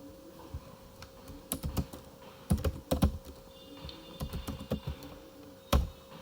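Keys clatter on a computer keyboard as a Linux host file is edited, with irregular bursts of close, crisp clicks and a few heavier taps, alone in a quiet room.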